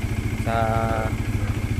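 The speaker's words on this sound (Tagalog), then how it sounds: "may huling vibration pag nagsisilinyador" A Bajaj Dominar 400 motorcycle idles with a pulsing, throbbing rumble and a rattling vibration, while someone speaks briefly over the engine.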